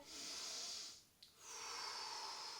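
A person breathes in audibly while seated during a lateral raise exercise, a long airy hiss that pauses briefly midway with a small catch and then resumes.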